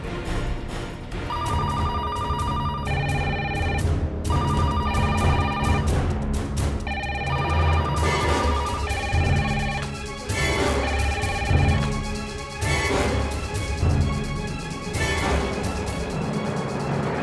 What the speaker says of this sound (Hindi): फोन की घंटियां बजनी अभी शुरू हो जाएंगी